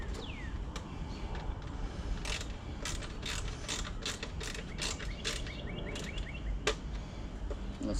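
Screws being tightened on an LED headlight mount of a Kawasaki Mean Streak motorcycle, heard as bursts of quick, close ratcheting clicks that repeat in an uneven rhythm.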